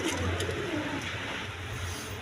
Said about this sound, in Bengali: দেখেন প্রচুর পরিমাণে ডিম বাচ্চা সহ কবুতর আছে